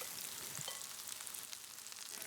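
Sweetcorn fritters frying in a frying pan, giving a steady, close hiss and crackle of hot oil with no voices.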